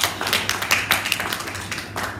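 Church congregation clapping hands together, a dense, steady patter of many claps at a moderate distance, without talking.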